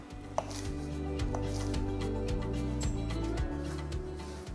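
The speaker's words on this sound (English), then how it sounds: "10 grams of cilantro, loosely chopped" A knife chops parsley and cilantro on a board in a quick, steady rhythm of close, crisp thuds.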